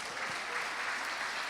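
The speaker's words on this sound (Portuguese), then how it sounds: "Bate palmas para Jesus." A church congregation claps in unison, a brief burst of steady, moderately loud applause filling the room.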